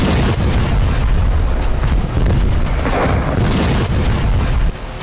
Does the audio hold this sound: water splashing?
no